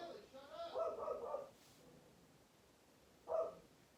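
A dog gives a muffled, drawn-out bark followed by a second short bark a couple of seconds later, faint and somewhat distant against a quiet room.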